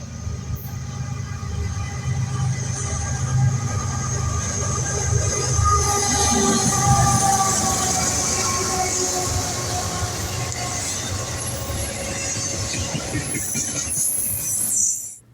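Freight train hauled by BNSF GE Evolution series locomotives rolls past at sunset, a sustained loud rumble with wheel squeal and metallic ringing tones over the passing cars.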